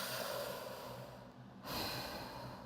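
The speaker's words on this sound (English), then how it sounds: "Take 2 minutes for yourself to just breathe. In and out." Slow, close breathing in and out, a steady airy breath that dips briefly and then swells into the next exhale, with no voice over it.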